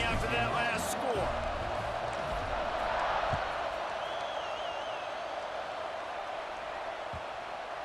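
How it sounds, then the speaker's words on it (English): Stadium crowd in EA Sports College Football 26 keeping up a dense, steady roar at moderate level, with a few sharp thuds and brief whistles over it. "this crowd is buzzing after that last score"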